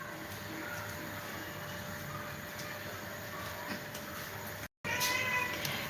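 A cat meowing faintly a couple of times against a steady background hum, with a brief gap near the end.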